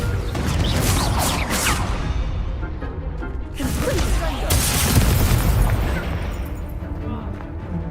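Confringo fire spells burst in a Hogwarts Legacy wizard duel: loud, booming blasts with swooshing whooshes, one surge after another across the clip, and a voice is heard amid the din.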